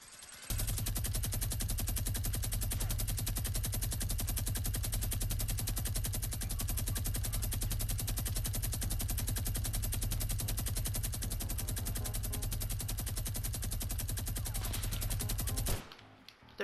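Sustained, rapid automatic gunfire in Fortnite Battle Royale's Solid Gold mode with legendary weapons, a dense unbroken stream of loud shots lasting about fifteen seconds before cutting off abruptly.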